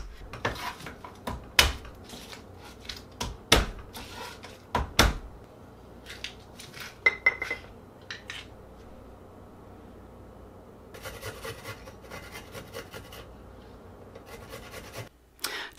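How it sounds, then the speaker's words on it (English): Peeling garlic cloves produces intermittent dry scratching and crackling of papery skins, with sharp taps and clicks on a hard kitchen surface, close and quiet, separated by pauses. "but I am going to peel the cloves"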